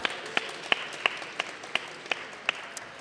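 An audience at an event about ending violence applauds, with clapping spread across the room and a few sharper, louder claps standing out at a steady pace.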